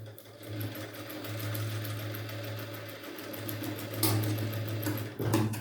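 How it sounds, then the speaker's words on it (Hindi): A sewing machine stitches a hook-and-eye strip onto a readymade blouse, its motor running in a steady, close whirring hum across the clip with a brief dip partway through and no talk. "पलटने के बाद यहाँ पर ऐसे सिलाई लगाएंगे सीधे में।"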